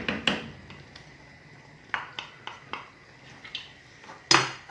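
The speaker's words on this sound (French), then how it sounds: "On mélange bien, نخلطو مزيان." Tagine ingredients with tomato paste, parsley and coriander stirred in a pot, a string of sharp utensil clinks and scrapes against the metal, close and unaccompanied by talk.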